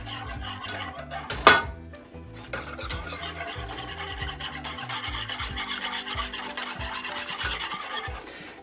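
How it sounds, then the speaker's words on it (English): Sauce being whisked in a pan on the stove, a fast continuous metallic rubbing and rasping of whisk wires against the pan bottom after a single sharp clink, close and steady, with no speech. "And then we're just going to whisk this."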